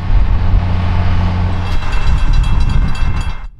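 Western Maryland SD40 locomotive hauling the North Pole Express passenger train, a steady loud rumble of diesel engine and rolling wheels, with rattling car noise rising toward the end before it cuts off.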